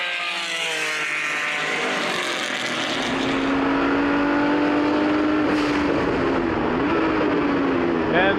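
A 1979 Porsche 935 race car, number 12, roars past at full throttle during a vintage reunion race, its engine note loud and sustained with a rising pitch, a commentator talking over it.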